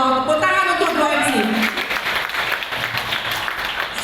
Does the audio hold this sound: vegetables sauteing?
no